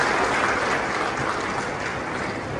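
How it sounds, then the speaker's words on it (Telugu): An audience of women's self-help group members claps in a steady, dense wash of applause at a public cheque-distribution event in Cantonment, continuous throughout with no talk over it. "మీరందరూ వారికి చప్పట్లతో ధన్యవాదాలు చెప్పాలని కోరుతున్నాను"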